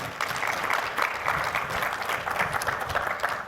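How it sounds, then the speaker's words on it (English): A conference audience at a business presentation applauds the panel guests. The clapping is a steady, full wash of many hands at moderate volume, heard alone without talk. "So give these guys a round of applause for helping you out today."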